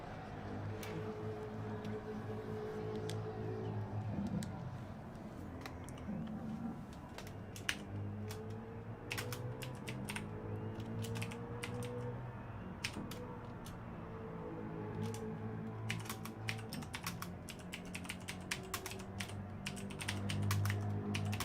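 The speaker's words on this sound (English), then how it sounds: "My typing is getting worse and worse the more I use this keyboard." Rapid, irregular clicking of someone typing on a computer keyboard, close and steady throughout, over a constant low engine-like drone.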